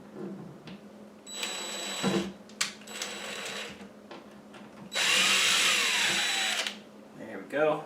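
Power drill driving a screw into a utility sink, several short whirring bursts separated by pauses and handling clatter, ending in one longer sustained run, close and fairly quiet.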